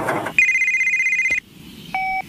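Telephone ringing nearby in short electronic trills, one long ring followed by a brief second ring, with no talk over it.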